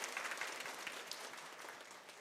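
A church congregation claps in blessing during a Sunday service, a fairly faint but steady wash of many hands, slightly tapering toward the end.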